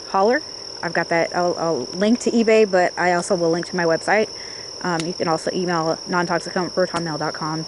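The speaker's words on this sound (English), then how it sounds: "And crickets. Lots of crickets." Crickets chirp outdoors as a steady, thin, high trill that carries without a break beneath a person talking close by.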